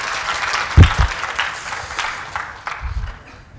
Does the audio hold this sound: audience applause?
yes